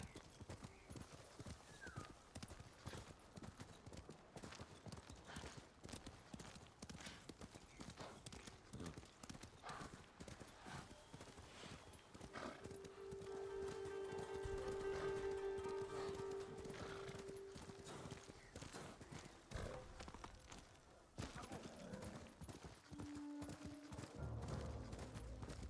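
A horse gallops in Ghost of Tsushima: rapid, steady hoofbeats go on throughout, with a brief whinny and some soft in-game tones in the middle.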